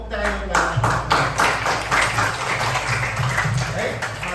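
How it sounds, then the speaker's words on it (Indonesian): A classroom of pupils clapping for a classmate at a teacher's prompt, a steady run of loud, fairly close claps lasting several seconds. "tepuk tangan untuk kamu"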